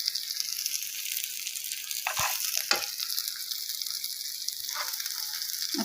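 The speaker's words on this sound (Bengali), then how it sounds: "এখন আমি একটু হালকা পেঁয়াজ ভাজা দিয়ে দেব।" Onions frying in hot oil in a home kitchen, a steady close sizzle running throughout with a few brief clinks and stirs of a utensil, no voices.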